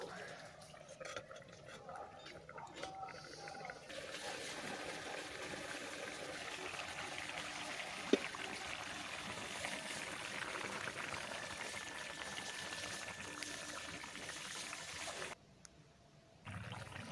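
Water poured into a pan of fish curry with potato and cauliflower, a soft steady trickle and splash lasting several seconds, close and fairly quiet, with a brief gap near the end.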